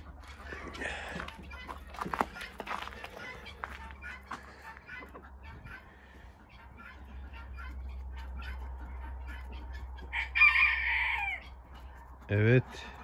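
Chickens cluck and a rooster crows in a quiet, snowy, cold farmyard, with scattered faint calls and a louder crow near the end.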